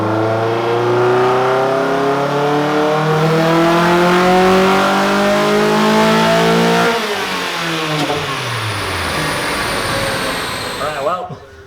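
A nitrous-boosted Mazda Miata engine revs hard in one long climbing pull on a dyno, its pitch rising steadily before the throttle drops off and the engine winds down.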